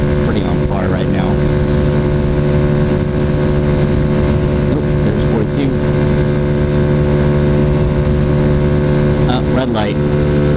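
A Honda Ruckus scooter rides into a headwind, its engine holding a steady drone over constant loud wind rush, with a voice speaking briefly and faint traffic passing.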